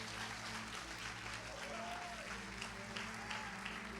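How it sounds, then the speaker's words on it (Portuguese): A church congregation applauds steadily throughout, a dense, sustained wash of clapping at moderate distance with a faint tonal murmur underneath. "aplaudindo a Jesus porque Ele é bom"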